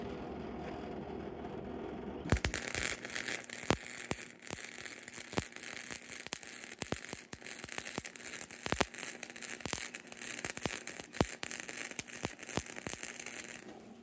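Flux core wire welding lays a bead: after a quiet start, a loud, continuous crackling sizzle with sharp pops runs steadily to the end.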